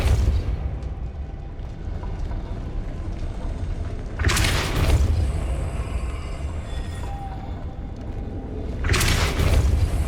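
Booming bursts of the Depulso spell in Hogwarts Legacy, two loud blasts several seconds apart rising out of a continuous low, rumbling in-game background.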